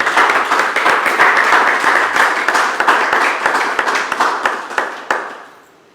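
Audience applause at an award ceremony for green ideas, loud dense clapping sustained for about five seconds before tapering off into quiet.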